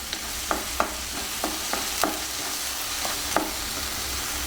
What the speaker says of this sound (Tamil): ஸ்லோ ஃப்ளேம் வச்சு நல்லா இந்த எண்ணெய் பிரிஞ்சு வர அளவுக்கு மசாலாலாம் வெந்து வரணும்